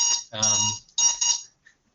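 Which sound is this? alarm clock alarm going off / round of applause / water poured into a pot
alarm clock alarm going off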